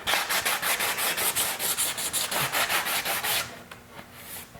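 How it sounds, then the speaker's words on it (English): Motorcycle paint is scuffed by hand to remove its gloss, giving a close, rapid rhythmic rasping of quick back-and-forth strokes that goes quieter near the end. "scuff to remove any remaining gloss"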